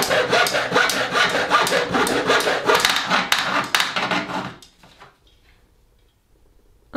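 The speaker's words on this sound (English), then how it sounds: "So I used a handsaw and I cut, see it? I cut a little teeny slit in each one" A handsaw cuts a small slit into a wooden ring, with rapid, steady back-and-forth rasping strokes close by for about four seconds before stopping abruptly into near silence.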